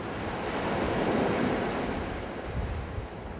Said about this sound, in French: Il y a un peu de vent, mais ça fait l'affaire.